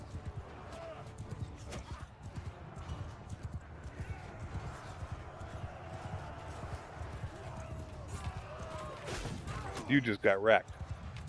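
A cavalry charge in the video game Mount & Blade II: Bannerlord, with a dense rolling clatter of many galloping horse hooves and a few whinnies. A player talks over the battle noise.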